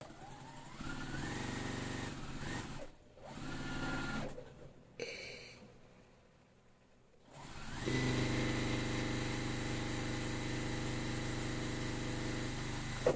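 A sewing machine stitches a quilt block straight across the bottom seam, a steady mechanical whir running for a few seconds, stopping briefly, then resuming loud and continuous, close by with no talking.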